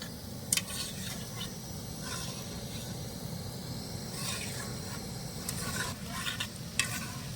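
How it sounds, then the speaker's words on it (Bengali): Flour (atta) langcha sweets deep-frying in oil, a steady low bubbling sizzle with occasional soft stirring clinks, continuous and moderately quiet with no talking. "তবে আমি যেহেতু আজকে ল্যাংচা বানাবো তার জন্য একটু কালো করে ভেজে নেবো"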